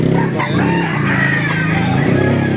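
Several chickens clucking up close while a rooster crows loudly at a chicken market in Baliuag, Bulacan, with people talking in the background.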